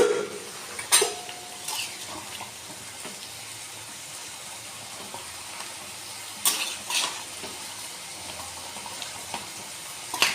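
Mutton kosha curry stirred in a covered pot on a low gas flame: soft scraping strokes with a few sharper knocks from the spoon, over a faint, steady hiss of simmering and frying.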